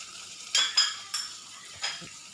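A few sharp scrapes and clinks of a utensil stirring carrot, cabbage and bean sprouts in a pan for spicy stuffed tofu, four brief strokes spaced apart, close and otherwise quiet.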